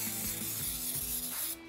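A close, steady hiss of aerosol cooking spray onto a loaf pan runs continuously for over a second, then cuts off abruptly.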